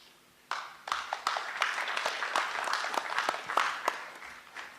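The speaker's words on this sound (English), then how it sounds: "Let us give a better applause" A crowd at an economic dialogue event bursts into applause, steady clapping from many hands that carries on for several seconds at moderate distance.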